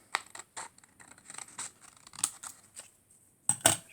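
Scissors snipping paper at an angle while shaping a lily-of-the-valley card, a series of short close scratchy cuts spread unevenly, ending in two sharper, louder snips.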